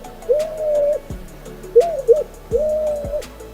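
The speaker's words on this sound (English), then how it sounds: "Their call is deep and unusual, sounding like a loud whoop whoop echoing through the forest." Victoria crowned pigeon giving deep, resonant whooping calls, three low hooting phrases spaced about a second apart, fairly close and clear over quiet forest background.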